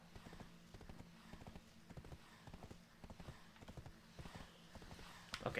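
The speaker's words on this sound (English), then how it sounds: "I'm gonna auto control my horse because I can run faster" Horse hooves gallop in Black Desert Online on Xbox One X, a steady, fast clip-clop rhythm that runs throughout at moderate level, with a brief brighter burst near the end.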